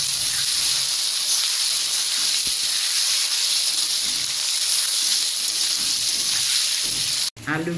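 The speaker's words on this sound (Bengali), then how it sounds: "আলু ভাজা হয়ে গেছে" Potatoes frying in oil for a Bengali bata fish curry, a loud, steady close hiss and sizzle that runs unbroken before cutting off abruptly near the end.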